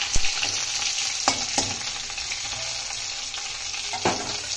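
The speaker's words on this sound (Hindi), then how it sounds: "अदरक भी डाल देंगे साथ में ही ताकि ये फ्राई हो जाए।" Ginger and garlic fry in hot oil in a pan over medium heat, a continuous bright sizzle with occasional clacks of a spoon stirring.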